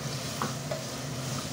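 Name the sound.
dried loitta fish sautéed and stirred with spices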